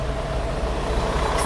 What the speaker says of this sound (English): Excuse the bus noise.